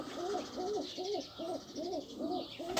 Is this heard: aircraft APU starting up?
no